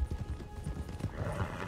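Horse hooves galloping in the video game Red Dead Online, a rapid rhythmic drumming of hoofbeats, close and continuous, with a faint snort.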